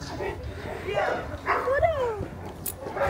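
A dog whimpers and yips in high, whining cries with a few short bark-like bursts, heard close under people talking nearby.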